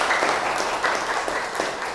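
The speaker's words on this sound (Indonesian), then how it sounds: "tepuk tangan untuk temannya" A classroom of students claps briefly for a classmate, a short burst of scattered hand claps at moderate loudness that stays fairly even throughout, with no talking over it.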